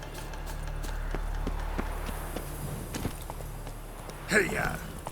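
Roach, Geralt's horse in The Witcher 3: Wild Hunt, clops along in soft, steady hoofbeats under ambient noise. A louder vocal burst near the end is followed by a rise in movement.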